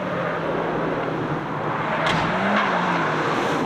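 Race car lapping a circuit on a hard qualifying lap with worn tyres, engine droning steadily with pitch rising and falling through corners, a brief tyre scrub midway, no talking.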